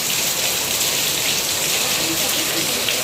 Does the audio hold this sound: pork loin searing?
no